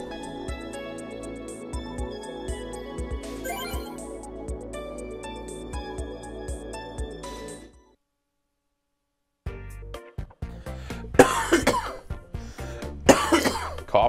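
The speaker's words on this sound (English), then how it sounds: "Coughing it up." Music plays at first, then after a brief silence someone coughs several times in rough, close bursts.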